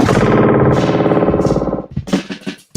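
Heavy delay effect on an Akai MPC One Retro: a loud, distorted synth phrase repeats in echoing pulses that trail off into a few fading, broken repeats.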